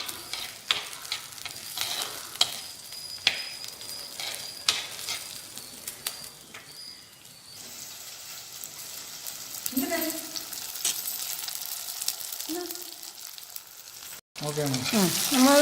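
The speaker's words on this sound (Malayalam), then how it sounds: "അതും കൂടെ കിടന്ന് ഒന്ന് വഴഞ്ഞ് വരട്ടെ" Onions and green chillies sizzle steadily in a hot pan for a fish roast, with stirring scrapes now and then, a voice talking over the frying, and a brief gap before louder clatter at the end.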